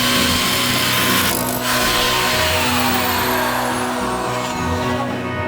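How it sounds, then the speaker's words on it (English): A loud, continuous power sander whirring steadily at close range, with a droning motor tone and grinding hiss that never lets up. "I think I'm going to need to switch out for the circular sander"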